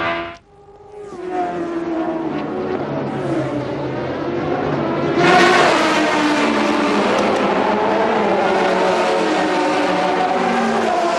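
A race car accelerates out of the pits during an ALMS sports car race, its engine note climbing loudly and staying strong after a brief dip, with trackside roar throughout.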